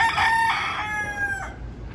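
A rooster crows once, near and loud, its long drawn-out call fading within two seconds over a low outdoor rumble at a backyard poultry pen.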